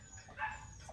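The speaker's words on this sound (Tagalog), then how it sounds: "nagkakagulo yung mga aso dito namin ngayon mga man" Dogs, including female dogs kept penned while in heat, bark in a commotion outdoors in a neighborhood: a couple of short barks and yelps in quick succession, moderately loud amid a faint background hum.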